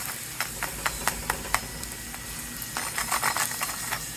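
Spinach flatbread crust frying in a pan, a steady crackling sizzle with a run of sharp ticks and pops early on, then denser bursts of spitting toward the end, close and fairly loud.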